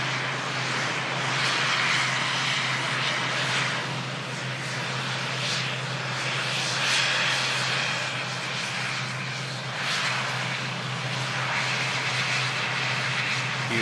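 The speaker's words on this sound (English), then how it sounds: "And now the Aer Lingus ATR." An Aer Lingus ATR turboprop idles before departure at Manchester Airport, its engines making a continuous loud broadband hum and hiss with a steady low drone, unbroken throughout.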